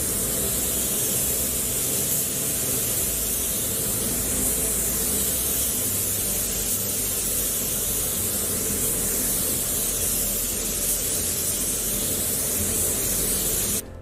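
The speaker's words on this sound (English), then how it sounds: "I'm going to use the DeVilbiss DV1 base coat spray gun to just lay the base coat down on these panels" A DeVilbiss DV1 spray gun laying base coat paint onto panels, a loud, continuous airy hiss that holds steady without pause before cutting off at the end.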